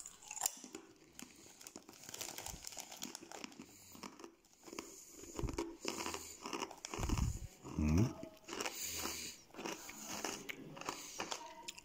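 Crunchy paprika-flavoured snack rings are bitten and chewed close to the mic, with sharp crackling crunches in irregular bursts and some bag crinkling.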